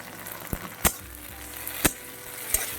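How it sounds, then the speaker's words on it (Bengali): Garlic and dried red chilli spice paste frying in a pan while being stirred, a quiet low sizzle broken by three sharp clacks of the spoon against the pan, close and without speech. "তো একটু নাড়িয়ে চাড়িয়ে কষিয়ে নেব মশলাটাকে।"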